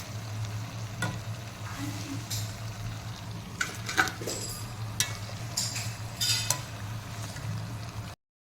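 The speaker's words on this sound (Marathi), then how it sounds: "हे मेदूवडे छान असे तळून झालेले आहेत" Medu vada fry in hot oil with a soft, steady sizzle, close by and fairly quiet, while a utensil stirs and clinks against the pan every so often.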